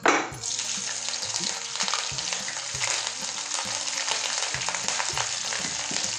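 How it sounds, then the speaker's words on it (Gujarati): Garlic and green chillies fry in a hot pan for a karela (bitter gourd) dish, a loud, steady sizzle with dense crackling and repeated low scrapes of a spoon stirring, no voices. "હવે ત્યારબાદ આપણે નાખશું લસણ હવે લીલા મરચાં"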